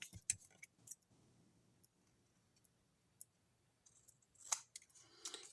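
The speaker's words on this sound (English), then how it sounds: "Actually, I think I'm going to cut a little more off." Scissors snip paper for a handmade card in short, crisp cuts at close range, spaced irregularly with quiet pauses between, and a quick burst of snips near the end.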